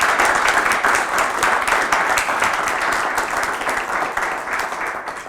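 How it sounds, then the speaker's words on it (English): A conference audience at an EU heat decarbonisation event gives the speakers a sustained round of applause, dense steady clapping that slowly tapers off near the end. "If I can ask for a big round of applause to all of them."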